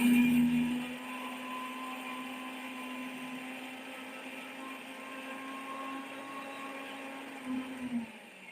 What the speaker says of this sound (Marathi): हे बघा इथे आपण मिक्सर लावून घेतोय.